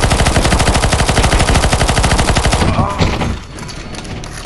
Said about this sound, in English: Okay, shoot the boss now.